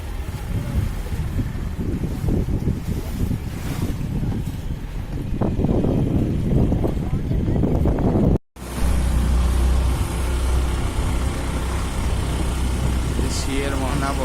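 A boat cruises on the Alleppey backwaters in Kerala, its engine droning steadily under wind buffeting and people talking in the first half. After a brief cut, the motor hum carries on more evenly and alone.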